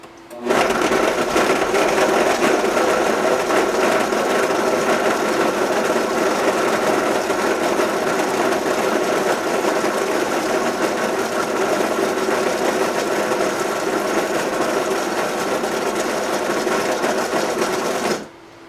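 A Vitamix V1200 blender runs steadily while blending fresh salsa, a loud, constant high-speed motor whir that holds for about eighteen seconds and then stops abruptly.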